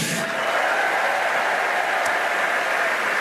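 A French Open tennis crowd applauds steadily as the French player Nicolas Mahut is introduced, a broad, even wash of clapping from a large stadium audience.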